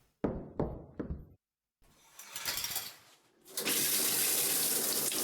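A shower starts running in a horror video game: a few hard knocks and a creaking mechanism give way to a steady, close rush of water that continues to the end.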